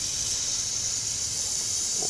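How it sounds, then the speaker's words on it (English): A pressure cooker vents steam in a van kitchen with a loud, steady, close hiss that runs unbroken from start to finish. "we're getting a little head of steam out of the pressure cooker"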